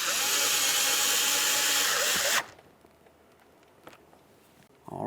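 A power driver whirs loudly and steadily for a couple of seconds while tightening a large Phillips head mounting screw on a 2012-2015 Honda Civic front driver door, then cuts off, leaving quiet handling clicks.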